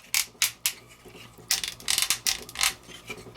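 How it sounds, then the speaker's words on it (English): Hip joints of a Transformers Siege Shockwave action figure ratcheting, a series of soft, uneven plastic clicks heard close up, with a few sparse clicks followed by a denser burst of clicking. "Forward and back, inconsistent ratchets. Soft ratchets at that."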